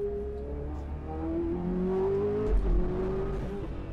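A sports car's engine revs hard and loud, its tone rising and holding as it accelerates, with a heavy roar carrying through the whole stretch and no talk over it.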